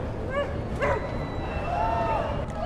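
Dogs fight in the ATOM RPG video game, giving short barks, yips and whimpers in quick succession against a steady game background.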